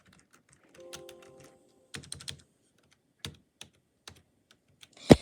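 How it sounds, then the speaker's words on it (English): Sparse keystrokes on a brand new computer keyboard, a few isolated clicks and short clusters spaced across several seconds, ending in one loud, sharp strike, close up with no talk. "they finally upgraded to this brand new keyboard,"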